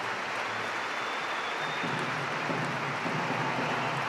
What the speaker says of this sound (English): And the applause continues.